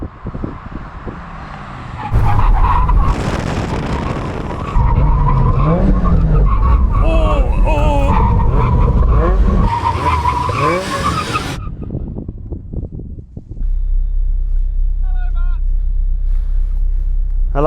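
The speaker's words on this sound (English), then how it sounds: "We're going to do a full emergency stop when we hit the line." A Mazda MX-5 roadster accelerates hard toward a line at about 70 mph, then brakes in a full emergency stop. Loud engine roar gives way to screeching, skidding tires, and the car settles into a quieter idle.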